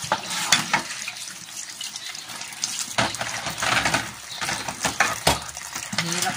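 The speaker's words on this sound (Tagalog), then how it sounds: "malakas na tulo." Strong, steady flow of water from a tap, running continuously with splashing bursts close by, no talk over it.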